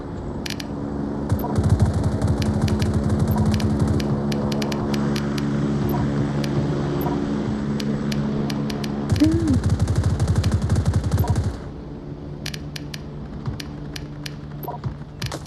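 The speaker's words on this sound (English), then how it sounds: "I'm just trying to shoot." Sustained automatic gunfire from the Onward VR shooter game, rapid loud bursts running almost continuously before stopping abruptly near the end, with scattered single shots afterward.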